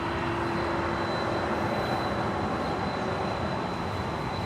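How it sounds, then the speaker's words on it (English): Korean Air A380 taxiing at Los Angeles International Airport, heard as a loud, steady jet engine roar with a constant whine, unbroken and close, with no voices. "And the Korean Air A380 now taxiing to the gates."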